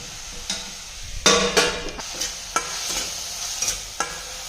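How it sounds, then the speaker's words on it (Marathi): Tomatoes roasting with salt in a pan for a drumstick bharit, heard as repeated close stirring scrapes and light sizzling with sharper clatters through the middle, no talking. "हे टोमॅटो अगदी मऊ होईपर्यंत आपल्याला यामध्ये भाजून घ्यायचं आहे"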